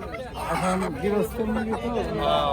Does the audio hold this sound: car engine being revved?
no